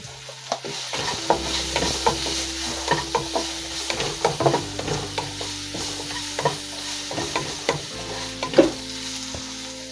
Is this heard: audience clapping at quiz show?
no